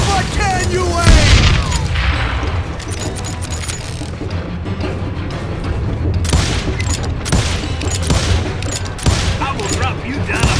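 Gunfire in the Western shooter game Call of Juarez: Gunslinger, loud rapid volleys and single booming shots in irregular bursts, with game voices faintly present among them.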